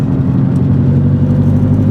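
Renault 5 Turbo engine running right behind the seats, a loud, steady low droning hum heard from inside the cabin with no talking.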